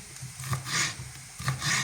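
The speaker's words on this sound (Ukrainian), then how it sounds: "Тепер ріжемо перчик болгарський." A knife slices through a bell pepper on a board, producing repeated crunchy, rasping strokes in an uneven rhythm, close up with no talking.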